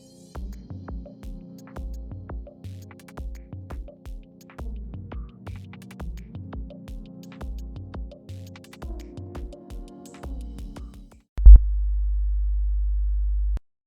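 Test audio file with a 4 kHz sampling rate played back through a standard media player: a looping low-pitched tonal sequence with rhythmic pulses, ending in a sudden loud steady hum.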